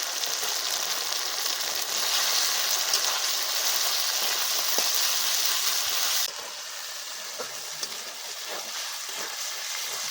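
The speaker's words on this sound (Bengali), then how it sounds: "আদা রসুন দিয়ে কিছুক্ষণ ভেজে নিলাম" Ginger-garlic paste and onion paste frying with tomatoes in a pan give off a steady, hissing sizzle with a few soft clicks. Partway through, the sizzle drops noticeably in level and continues more quietly.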